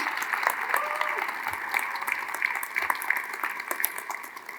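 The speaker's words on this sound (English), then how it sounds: "please give them a round of applause" Applause from the audience at a ribbon cutting ceremony for United Safety Technology at Trade Point, a steady spread of many hands clapping at moderate distance, with faint voices beneath.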